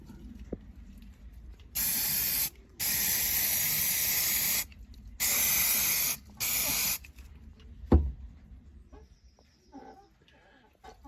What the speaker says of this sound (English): Now we'll apply the penetrant.